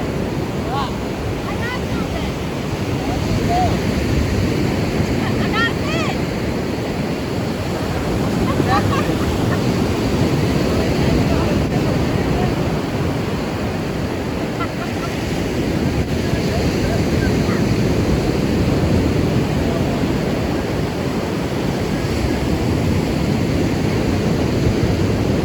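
Ocean surf at Gulf Shores beach makes a steady, broad roar of breaking waves mixed with gusty wind noise on the microphone, continuous and fairly loud throughout.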